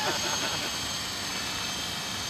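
An RC model helicopter flies overhead at an outdoor flying field, its rotor and motor a steady, broad whine that stays loud throughout, with people chatting beneath it.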